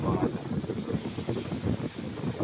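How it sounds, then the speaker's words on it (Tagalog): Strong wind with rain buffets the microphone in gusty, rumbling bursts, a rough, uneven roar throughout the short stretch. "lakas ng hangin tapos maulan pa"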